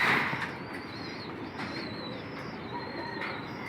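Pigeons coo softly in a row of low, warbling calls at moderate distance, with a brief flutter of wings at the start.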